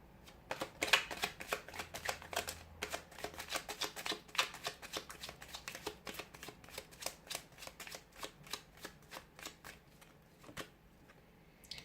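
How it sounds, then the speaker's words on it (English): Tarot cards are shuffled over and over in a steady run of soft, crisp riffles and flicks, close by and quiet, with no talking. "give the cards a shuffle"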